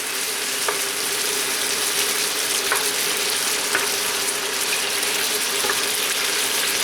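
Chicken pieces frying in a pan for chop suey, a steady dense sizzle that carries on throughout with occasional faint clicks of utensils, close and loud with no talking.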